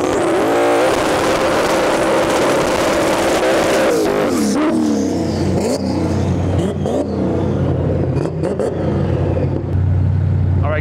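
A Ford wagon racing down a drag strip at a Sick Summer event gives a loud, sustained engine roar with a falling pitch. It thins into a distant drone as the car pulls away, with crowd and track noise around it.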